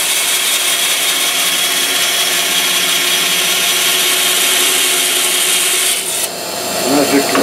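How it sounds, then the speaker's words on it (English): A hand saw fitted with a fine 14 TPI blade cuts slowly through a Hannix solid surface sheet, giving a steady, loud, close rasping stroke that runs continuously for several seconds before easing near the end. "I use a fine tooth blade on the saw, 14 TPI"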